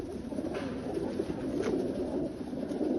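Pigeons bred for the Derby Zagreb one-loft race coo softly inside a loft, a low steady murmur of many birds with a few brief higher calls rising over it.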